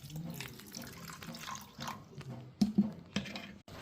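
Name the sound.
water being poured into a cooking pan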